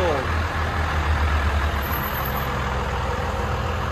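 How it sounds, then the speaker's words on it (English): A Dodge Ram 5.9L Cummins turbo diesel runs steadily at idle, giving a continuous low rumble with a throaty drone, close and fairly loud throughout with no talk. "Cummins diesel."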